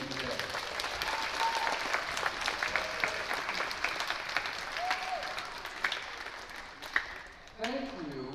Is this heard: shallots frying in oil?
no